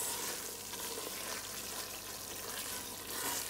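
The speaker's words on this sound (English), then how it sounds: "I'm gonna add my onions and allow the onions to cook a little in that curry paste." Onions cooking in curry paste in a pan give a steady, close sizzling hiss with soft crackle and light stirring, holding at an even level throughout with no talk.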